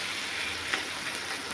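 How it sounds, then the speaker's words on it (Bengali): Bengali egg curry (dimer kalia) simmers in a pan, giving a steady, soft sizzling hiss of bubbling sauce that continues evenly without pause. "কেমন টক করে ফুটছে দেখুন"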